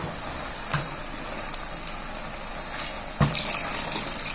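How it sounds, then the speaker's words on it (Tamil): Water pours steadily into a pot of kollu kuzhambu, a Tamil horse gram curry, giving a continuous close splashing rush with a few brief clinks and knocks and no talking. "இது குழம்புக்கு தேவையான அளவுக்கு நான் வந்து தண்ணி சேர்த்துக்க"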